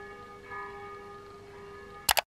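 A church clock bell sounds near the end, two bright ringing strikes close together after a quiet stretch of steady background hum in an apartment.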